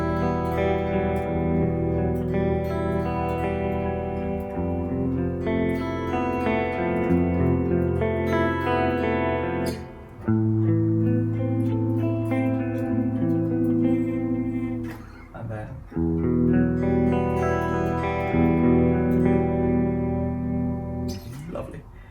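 Guitar playing a chord progression with a distorted, effects-laden tone, sustained chords ringing continuously for about twenty seconds with brief dips between changes.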